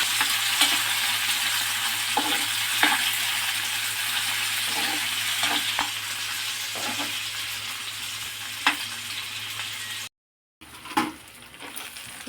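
Tomatoes and chillies fry in a pan on a stove, giving a loud, continuous sizzle. Occasional stirring scrapes and taps sound through it, and there is a brief silent gap near the end.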